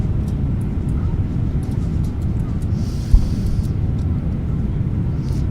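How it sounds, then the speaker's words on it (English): A FedEx jet airliner climbing after takeoff, heard as a steady broadband engine roar with deep rumble, continuous and even throughout with a faint higher whine, no talk. "Ah, very nice. Flawless takeoff."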